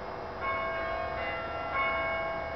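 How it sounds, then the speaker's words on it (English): A bell rings steadily with sustained, overlapping tones, a moderately loud ringing that swells slightly partway through and carries on without any voices. "bloody bell."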